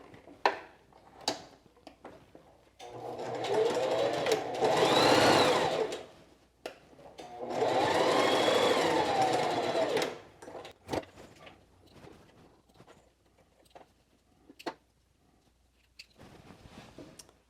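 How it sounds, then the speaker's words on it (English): Sewing machine stitching the gap in a quilted jacket, with two sustained bursts of rapid whirring and needle chatter that sound close. Scattered handling clicks and fabric shuffling fall between and after the bursts. "I'm just going to go straight ahead and sew the gap."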